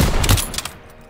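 Rapid bursts of WWII-era gunfire in a Call of Duty street battle, a loud close volley of overlapping shots that rattles for about half a second and then trails off into echo.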